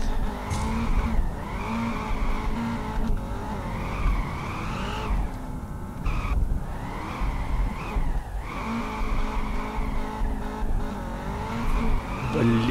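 A drift-tuned Nissan GT-R rated at 800 hp skids and squeals its tires in the Peak Angle racing game, the engine wailing in rising and falling sweeps, loud and continuous with no talk.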